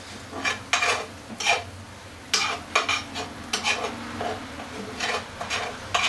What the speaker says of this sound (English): Use the bottom of a fork to move the omelette around